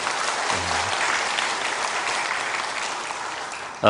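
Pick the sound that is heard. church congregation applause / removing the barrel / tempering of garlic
church congregation applause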